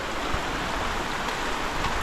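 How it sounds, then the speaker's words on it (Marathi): Heavy rain falls on a Konkan village, a constant broadband hiss that holds at one level throughout, close and unbroken. "पाऊसच तसा पडतो आहे"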